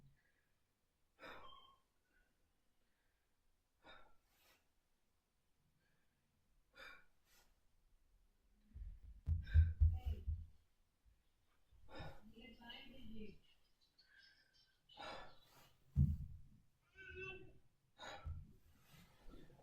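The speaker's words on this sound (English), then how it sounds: "Please take a deep breath." Slow deep breaths drawn in and let out during a respiratory assessment, each breath a soft rushing swell separated by quiet pauses, with a voice speaking in between.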